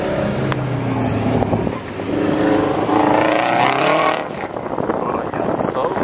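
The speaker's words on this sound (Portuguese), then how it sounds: "Esse Camaro 2021 tá torando ali, hein?" A 2021 Chevrolet Camaro's engine roars and revs nearby among other vehicle noise at a car meet, with the rumble rising and falling over about six seconds while people talk in the background.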